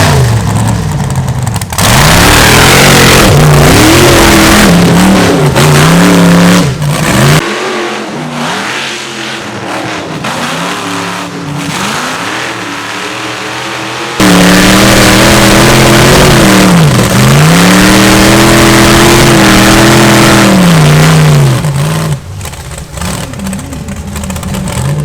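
A big block powered rock bouncer screams up a hill climb, its engine held wide open in long, loud, wavering revs that surge, briefly drop, and then roar again.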